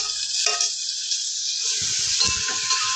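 Green chillies sautéing in a pan for a spicy udid dal: a steady, bright sizzle of hot oil runs throughout, with soft stirring clatter joining near the end.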